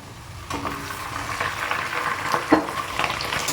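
Washed chicken pieces fry with browned onions in a pan, a close, steady sizzle with bubbling and a few louder scrape-and-clatter stirs.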